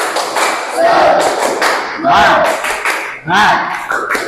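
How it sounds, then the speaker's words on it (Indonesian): A classroom group claps in a rhythmic cheer pattern, with bursts of claps and thumps mixed with voices calling out between them. "kita tepuk semangat dulu"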